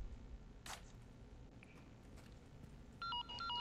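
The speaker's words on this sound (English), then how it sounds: "Oh, phone call." A phone rings inside the VR game Resident Evil 4 Remake, played as a clear repeating electronic ring pattern near the end, rising over low ambient game noise.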